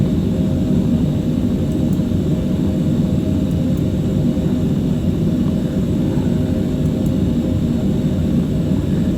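A Boeing airliner taxis toward the runway line, its engines producing a steady, loud, low rumbling drone that holds without a break throughout.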